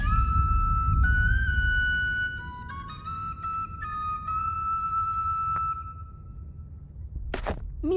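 A drawn-out whistled tune in the Bard's Tale IV video game, several sustained clear tones that step between pitches over low ambient rumble, ending with a short rising squeak.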